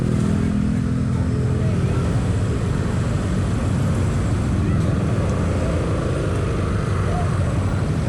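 A motorcycle accelerates, its engine a loud, steady roar close by that holds throughout, mixed with a broad rush of wind and road noise.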